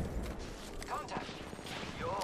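Rapid gunfire in a fast-paced online shooter match rattles continuously at mid distance, dense bursts layered under game noise and a voice calling out.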